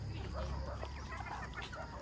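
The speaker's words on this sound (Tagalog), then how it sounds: "Go get the chicken." Chickens cluck repeatedly nearby in a farmyard in the Philippines, short scattered calls over a low steady background hum.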